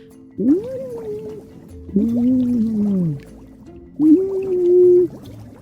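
A floating creature in an audio drama makes three absurd, gurgling, splashy calls, each rising then sliding down, loud and close with pauses between; a voice appears to imitate the watery sounds by gargling.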